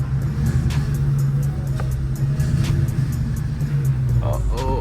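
A Dodge Challenger R/T engine rumbles low and steady while driving, with faint rising revs, as someone talks over it throughout.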